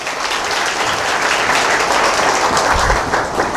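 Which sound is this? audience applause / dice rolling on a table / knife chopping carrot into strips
audience applause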